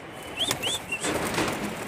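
Pigeons coo softly on a rooftop in a few short, rising calls over faint outdoor background noise.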